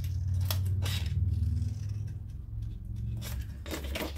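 Scissors cutting paper for a handmade vintage journal, a few short close snips separated by quiet pauses.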